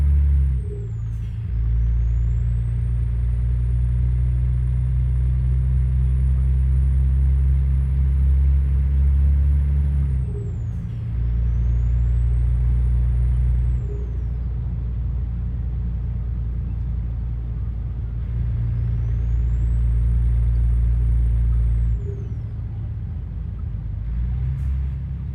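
A car engine heard from inside while driving, a steady low rumble that drops and rises again at gear changes as the car slows to turn right. No one speaks.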